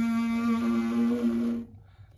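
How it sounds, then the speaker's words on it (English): Lips buzz together in a trombone embouchure, producing one steady, reedy drone held for about a second and a half before it stops abruptly, close and alone. "you get the top lip and the bottom lip to vibrate together and it makes a buzzing sound"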